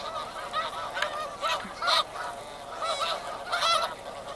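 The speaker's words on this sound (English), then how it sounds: "This is the time of year the snow geese come through here." Several snow geese honk in bursts, some calls overlapping, against a soft background hiss; the honks come at irregular intervals from moderate distance.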